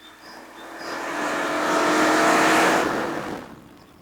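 A BMW 325i with a 2.5-liter six-cylinder engine revs up, swelling into a loud sustained roar before easing off.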